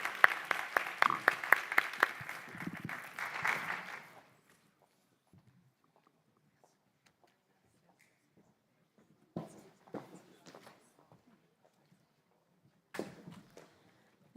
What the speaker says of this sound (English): please join me in giving the panelists a round of applause